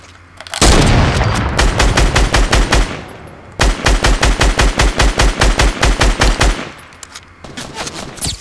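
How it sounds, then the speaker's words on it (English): Automatic weapons fire in a Fortnite squad match, with two long rapid bursts of loud, close gunshots separated by a short pause and faint trailing shots. "Yeah, they're shooting at me, the people."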